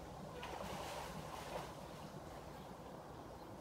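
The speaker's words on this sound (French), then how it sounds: "Donc on va arroser là." Watering vegetable garden plants in a June kitchen garden, including sweet peas, a steady broadband wash of water spraying or pouring onto foliage and soil, continuous and fairly close with no talk.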